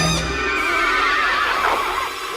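A horse from the 1987 horror film House II gives a loud, close neigh, a single drawn-out whinny quavering for about two seconds.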